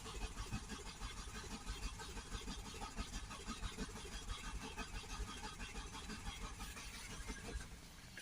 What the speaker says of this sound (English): He said it struggles to start. It's not starting.